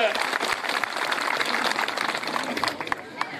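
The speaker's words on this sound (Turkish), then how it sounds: "Alkışlayın bakalım" A crowd gives a continuous round of applause as Kemal Doğru, headman of Testerek village, receives the month's and year's awards. The loud clapping fills the space and thins slightly near the end, with a voice speaking over it.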